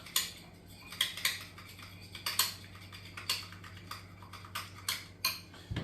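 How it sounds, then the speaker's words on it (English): A spoon clinks and scrapes around a bowl while spicy mayo and hot sauce are stirred, a series of bright, close taps and scrapes in an irregular rhythm over a quiet low hum, with no talking. "we're just going to give it a nice stir"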